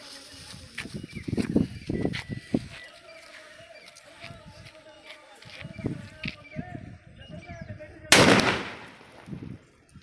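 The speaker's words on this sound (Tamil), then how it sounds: "ஓகே, இப்போ வெடிச்சு பார்த்துருவோம்." A large paper-cased firecracker from Valangaiman bursts in one sharp, loud blast late on, after scattered clatter and background noise.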